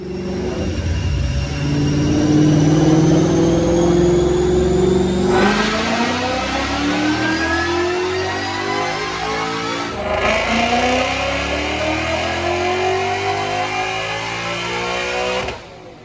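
A 2013 Mustang GT with a Gen 2 engine and a Roush 2.3 L TVS supercharger, running C85 fuel, roars through a full dyno pull. The engine climbs steadily and loudly with supercharger whine, then briefly lets off and comes back in before cutting off.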